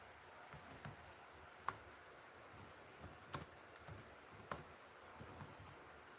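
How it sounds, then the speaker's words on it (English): Keystrokes on a computer keyboard at a desk, a quiet, irregular patter of light clicks with a few sharper, louder taps standing out, set against faint room hiss with no talking. "let's type that in"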